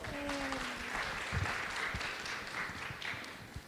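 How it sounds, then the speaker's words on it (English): An audience applauds at a university business-school open house, a continuous mid-level patter of clapping across the room with a faint tone in the opening moments. "Let's give them another big round of applause."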